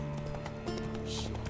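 Hooves of the horse Roach clop in a quick trotting rhythm in The Witcher game, steady and fairly close, with a faint snort and some background game ambience.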